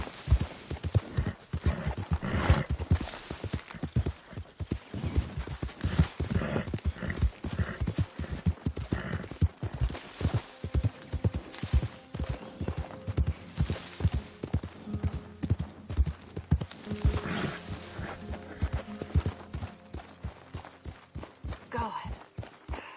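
Hooves of a horse ridden in the Western video game Red Dead Redemption 2 clop steadily and close on hard ground in a quick rhythm, with brief snorts and occasional voices mixed in.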